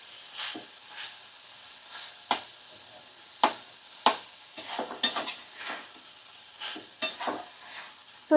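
A spoon scrapes and stirs banana stem with mustard and poppy seed in a pan, irregular clinks and scrapes over a faint sizzle, close and moderately loud.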